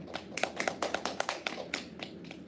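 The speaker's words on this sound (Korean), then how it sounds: "박수로 맞이해 주세요" A small audience at a student presentation event claps to welcome a team, sparse and uneven claps from a few pairs of hands, distinct individual strikes close by rather than a dense roar, tapering off after about two seconds.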